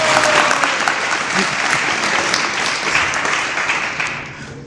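A live audience at a Srimad Bhagavatam story session breaks into steady, dense applause that holds strong for several seconds, then gradually thins and fades toward the end.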